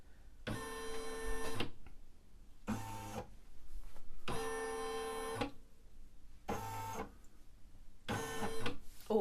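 A Brother Innovis 1250 embroidery machine stitches out a design in five separate bursts of rapid mechanical whirring, each lasting about a second, with short quiet pauses between them, heard close up.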